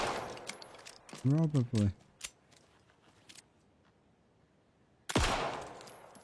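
Gunfire bursts out in quick sharp cracks at the start, a few single shots follow, then a loud blast lands near the end. A voice speaks briefly between the shots.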